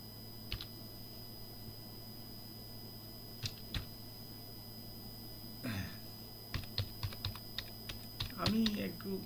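A keyboard clicks in sparse single taps and short runs as a transaction ID is entered, close by over a steady background hum, with a faint bump of handling near the end.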